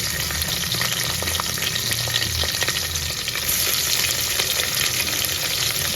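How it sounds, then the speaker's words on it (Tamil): Three medium onions frying in a pan for vegetable pulao, a loud, constant close-up sizzle with occasional stirring scrapes throughout. "3 மீடியம் சைஸ் வெங்காயம், அதை வந்து சேர்த்துக்கலாம்."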